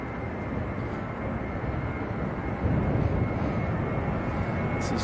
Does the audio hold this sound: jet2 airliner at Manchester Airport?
yes